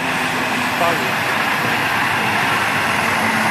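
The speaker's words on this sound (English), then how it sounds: "Approaching me now is Fordson's wartime model, the Fordson Model N." A wartime Fordson Model N vintage tractor rolls past in a show parade, its engine a steady low rumble buried in dense broadband outdoor noise, loud and continuous without clear rhythm.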